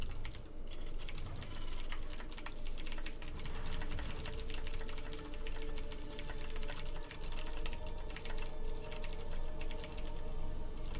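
Fast, continuous typing on a computer keyboard, heard close and loud as dense, irregular key clatter with no pauses.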